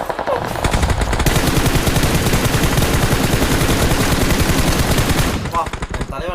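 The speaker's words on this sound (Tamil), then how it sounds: "தலைவன் 40 புல்லட் சுட்டான்." Sustained automatic gunfire in the video game BGMI, a loud, dense rapid-fire burst lasting about four seconds with quieter game sounds before and after, and some voice in the background.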